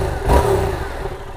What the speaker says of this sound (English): if you were to put an exhaust on this thing has a sweet sound, being that parallel twin engine with the 270-degree crankshaft